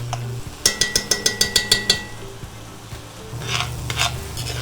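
Onions sizzle faintly in a pot of brisket chili while a utensil taps rapidly against the side about ten times, then stirring scrapes follow.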